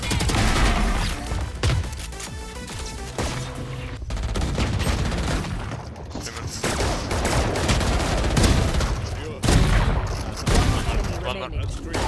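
Tejo's ultimate missile barrage in the game Valorant, a dense, loud stretch of rapid explosive impacts and gunfire-like bursts that continues for several seconds, with speech mixed in underneath.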